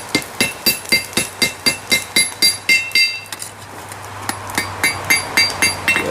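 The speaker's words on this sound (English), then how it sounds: "Be careful I don't hit any of those details on the face with the hammer." A hammer strikes a railroad spike knife at the forge in rapid, evenly spaced ringing blows, loud and close, with a brief pause before the metallic hits resume at a steady rhythm.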